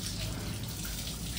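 Water is poured out in a steady, close, continuous rush with a splashy hiss that stays at an even level throughout, with no voices.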